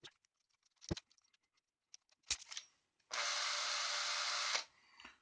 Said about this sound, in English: And I'm going to use power drill.